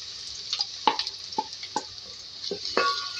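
Three medium onions go into hot mustard oil over low flame, giving a quiet sizzle under a series of distinct spoon clinks and stirring scrapes, sparse and close.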